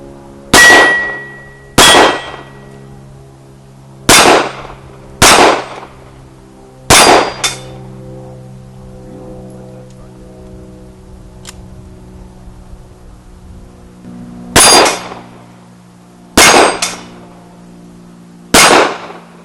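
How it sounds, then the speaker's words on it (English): Sharp gunshots from a Jimenex Arms JA NINE 9mm handgun ringing off steel targets, eight loud separate shots with pauses between them, each followed by a metallic clang. "it's my turn to shoot the Jimenex Arms JA NINE"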